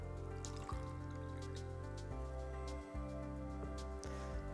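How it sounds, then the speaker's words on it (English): Water is poured into a beaker while preparing to clean a behind-the-ear hearing aid, a quiet trickle with light drips and small splashes that runs for several seconds with no talking. "So let's pour some water into the beaker."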